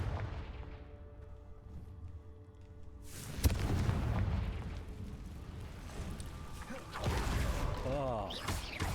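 Confringo fire spells bursting in the Hogwarts Legacy video game inside a cave, with a loud booming impact near 3.5 seconds and further blasts around 7 seconds over a continuous rumbling game soundtrack.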